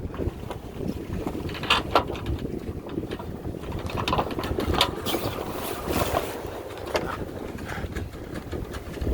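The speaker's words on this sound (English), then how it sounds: "It's a great windy day." Wind gusts across a Catalina 42 sailboat under way, a steady rushing buffet with microphone wind noise and water wash, continuous and close throughout with no talking.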